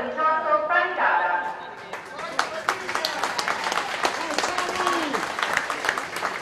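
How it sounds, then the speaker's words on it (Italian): At a local Eccellenza football stadium, spectators give warm applause to a striker leaving the pitch after being substituted. A sustained, fairly distant patter of clapping mixes with crowd murmur and a commentator talking over it. "Applausi di incoraggiamento, di affetto del pubblico del comunale verso Marco Farina"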